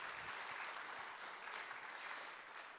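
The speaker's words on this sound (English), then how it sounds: "we should clap" A large audience claps in a dense, even wash of applause that stays steady and moderately distant throughout, with no voices standing out.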